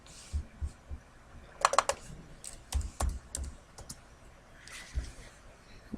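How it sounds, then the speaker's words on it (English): Keys tapped on a computer keyboard while editing cells in an Excel spreadsheet, a few soft, scattered clicks with a quick cluster near the middle, quiet and close, with faint low bumps and no talk over them. "I'm going to type a 3 and hit enter"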